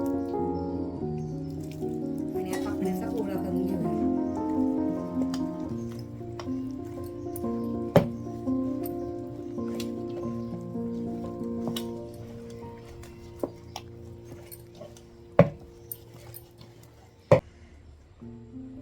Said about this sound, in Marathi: तर आपला अशा पद्धतीने गोळा मळून झालाय